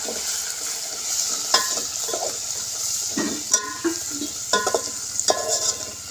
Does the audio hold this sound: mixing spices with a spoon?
yes